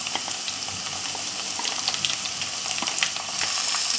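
Chopped green chillies sizzle and crackle in hot oil in a pan, a steady close frying hiss with scattered pops that grows slightly louder toward the end.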